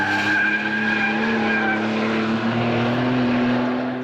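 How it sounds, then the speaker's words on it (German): Porsche 992 Turbo S sliding sideways in a drift: a loud, steady engine roar with a sustained tire squeal running across the whole stretch, close and continuous, with no voices. "Du kannst auch jederzeit einfach sagen, ich möchte jetzt quer fahren"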